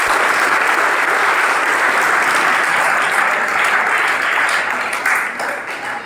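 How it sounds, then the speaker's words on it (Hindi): Schoolchildren clapping together at a government school lesson, a loud, dense burst of applause that stays steady for several seconds before tapering off slightly at the end. "ताली बजाओ।"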